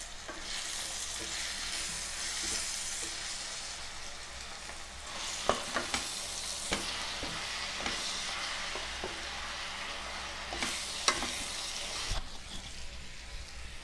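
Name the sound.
stirring tella garrelu leaf curry in a pan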